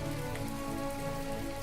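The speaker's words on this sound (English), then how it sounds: "The sun is brighter today because of your support, though it is raining." Steady rain falls in the farming-life video game My Time at Portia, a dense, even hiss of drops on surfaces that holds at constant loudness throughout with no talking.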